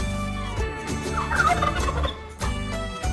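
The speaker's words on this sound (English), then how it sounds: "I see 3 turkeys." A turkey gobbles in a loud, rapid, warbling burst, then after a short pause a second gobble starts near the end, with no talking.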